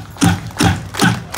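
A crowd at a New Orleans street performance claps together in a steady unison rhythm, four sharp evenly spaced claps, close and fairly loud with no talking.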